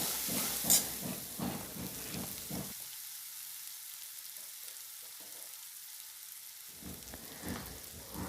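Ground spice masala with a pinch of asafoetida frying in oil for a Marathi matki batata rassa: a soft, steady sizzle at first, then almost silence for about four seconds before the crackling sizzle returns.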